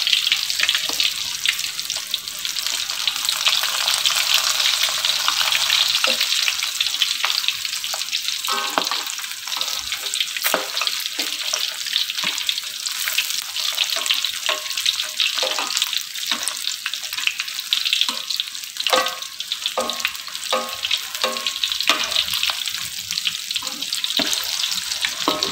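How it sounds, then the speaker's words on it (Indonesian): Flour-coated chicken being fried a second time in hot oil for crispy Kentucky-style chicken, with a loud, steady sizzle and bubbling that runs throughout, broken by occasional stirring clinks and scrapes close to the pan. "Ini kemudian digoreng kembali"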